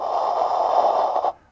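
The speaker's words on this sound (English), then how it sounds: "almost makes a breathing sound like Darth Vader." A string pulled through a cup makes a harsh, raspy rasping drone resembling Darth Vader's breathing, one steady loud stroke lasting over a second before cutting off.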